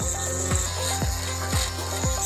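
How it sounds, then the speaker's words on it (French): A thin drill bores into padlock cylinders, grinding out loud, close, rhythmic strokes about twice a second, each ending in a sharp scraping bite against the metal. "Prenez alors une perceuse fine et commencez à scier les cylindres."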